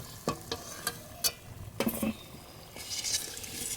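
Cauliflower samosas fry in hot oil with a steady sizzling hiss, punctuated by sharp clinks and scrapes of a slotted spoon as pieces are lifted and drained.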